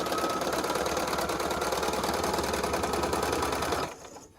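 A sewing machine stitching quilt pieces runs steadily and loud with a fast, even rhythm, then stops abruptly near the end.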